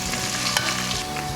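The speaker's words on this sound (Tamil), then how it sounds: "இப்போ வெங்காயம் போடணும்." Onions frying with cinnamon and cloves in a pan for mutton biryani, a steady loud sizzle with a soft stirring scrape partway through, no voices.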